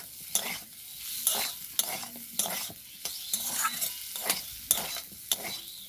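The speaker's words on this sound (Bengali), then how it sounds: "হলুদ গুঁড়ো হলুদ গুঁড়োটাকেও ভালো করে মিক্স করে নেব" A spoon stirring turmeric powder into potatoes and onions frying in a pan, with repeated scraping strokes over a continuous soft sizzle, close and fairly quiet.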